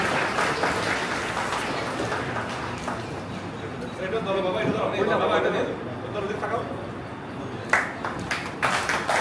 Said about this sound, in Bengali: আমরা তার জন্য একটা জোরে করতালির মাধ্যমে তাকে স্বাগত জানাতে চাই।